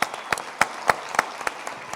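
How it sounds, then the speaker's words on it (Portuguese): A live audience at a leadership panel claps in sparse, separate bursts. The applause is moderately near and thin, with distinct individual claps rather than a dense ovation. "eu queria uma salva de palmas para ele aí"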